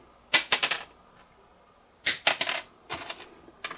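A small plastic guitar nut dropped onto a hard surface, making three quick clusters of light clicky bounces and rattles, close and alone against a quiet room.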